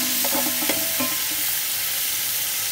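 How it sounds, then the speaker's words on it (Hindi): A spoon stirs garlic-ginger paste into half-cooked onions in a hot pan, with a few quick scraping strokes early on over a constant, close sizzle and no speech. "चमचा चला लेंगे।"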